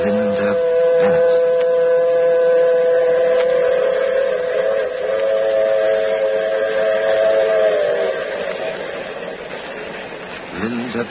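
A train rumbles past, its horn sounding a long, sustained tone over the rolling noise, fading toward the end.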